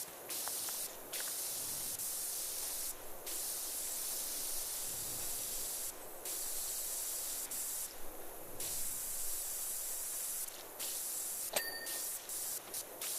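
Pressure washer spraying in the video game PowerWash Simulator 2, a continuous hissing jet that cuts in and out in bursts, with a few small chimes.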